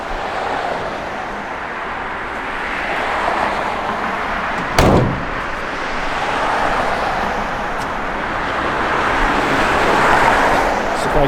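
A 1967 Plymouth Belvedere's engine idles with a steady, close rumble, and a single sharp knock or thump breaks in partway through.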